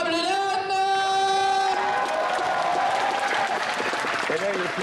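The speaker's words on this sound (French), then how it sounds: "applaudissements pour celui dont on appelle Bob Lennon" Audience applause and cheering at a gaming convention talk, a loud crowd clapping that swells after a sustained tone fades and continues densely, with some voices and whoops mixed in.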